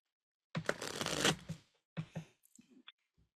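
A deck of tarot cards is shuffled close up in two quick bursts, a crisp riffling flutter followed by a shorter shuffle and a few soft taps, in an otherwise quiet room.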